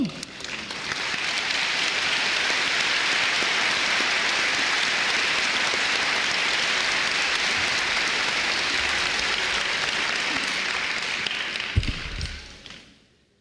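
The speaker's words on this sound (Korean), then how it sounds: "여러분 뜨거운 박수로 환영해 주시길 바랍니다" Sustained audience applause welcoming a missionary at a church funeral service: dense, steady clapping that holds evenly for about ten seconds and then fades out, with no talking over it.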